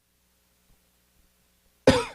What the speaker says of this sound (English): you got me coughing over here.